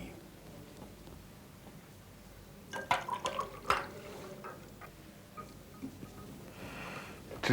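Water is poured into a glass of whisky over ice, with a short splashing, trickling burst in the middle against a quiet room background.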